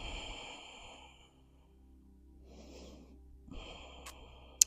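Slow, deep breaths during a yoga pose: a soft, long exhale, a pause, then a quieter airy inhale and another breath, all faint and near, with a small click at the end.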